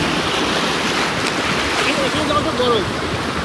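Surf washing on a beach at Destin on a rainy, overcast afternoon, a steady broadband wash of waves with wind buffeting the microphone, continuous and fairly loud.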